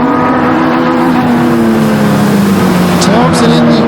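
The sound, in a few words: pure stock race cars racing at Flamboro Speedway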